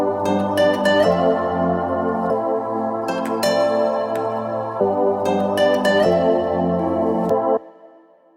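Another guitar loop, pitched up ten semitones, repeats a short chordal phrase twice with plucked high accents, clean and upfront, then stops with a brief fading tail.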